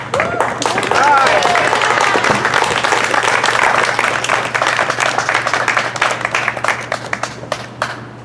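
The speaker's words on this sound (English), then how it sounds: "Can we have one more round of applause for her?" Audience applause at a community meeting about pesticides in Monterey and Santa Cruz, California: a sustained burst of dense clapping from a room full of people, loud and close, gradually thinning toward the end.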